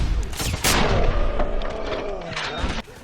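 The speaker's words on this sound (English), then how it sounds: "Without the silencers equipped, the guns sound really meaty, especially the KR-98." Unsilenced guns firing in the 2009 Wolfenstein shooter, including the KR-98 rifle, in a large battle: heavy, booming shots and blasts dense through the whole stretch, loud and close, with faint voices buried in the mix.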